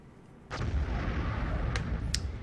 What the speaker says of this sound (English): That sounded eerily like an explosion.